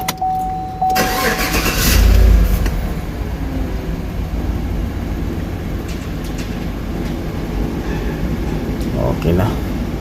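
A 2015 Chevrolet Tahoe engine restarting after an oil-cap check for a misfire, a brief crank and catch settling into a steady idle rumble, close and loud, with a voice briefly heard.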